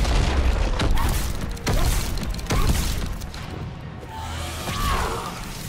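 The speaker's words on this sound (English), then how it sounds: "throw another grenade" Grenades go off in Mass Effect 3 as a series of heavy booms and crashing impacts about a second apart, loud and close, with a whooshing rumble trailing between blasts.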